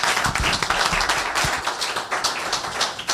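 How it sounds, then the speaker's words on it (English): Audience applause at a mental health retreat, a dense burst of clapping from a crowd that fills the whole stretch, loud and close. "Can we applaud her for her vulnerability?"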